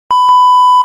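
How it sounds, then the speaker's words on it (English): A loud, steady censor beep added in editing holds one pure tone for most of a second, cutting in abruptly and ending just as sharply. "that loud beep"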